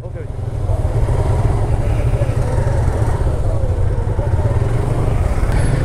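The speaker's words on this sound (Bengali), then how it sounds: "বাইকের সংখ্যা এখন আরও বাড়ছে, কারণ আমরা 16টা আসছি অ্যান্ড সাকিব ভাইরা আস" Several motorcycles ride together in a group on the road from Manikganj toward Baliati, a steady dense engine drone with wind rumble filling the whole stretch, up close and continuous.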